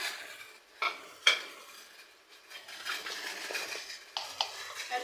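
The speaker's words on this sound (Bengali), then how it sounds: "পানির মধ্যে আমি পাস্তাগুলো দিয়ে দেবো।" Dry pasta goes into a pan of heated water, with a few sharp clinks and clatters against the pan over a quiet hiss, close and without talk.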